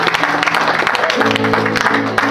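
Wedding congregation at a religious ceremony in a Paris church clapping together in sustained, dense applause, loud and close, with a low hum and some voices mixed underneath throughout.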